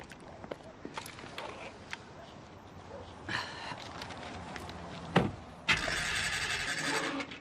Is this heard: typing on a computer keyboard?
no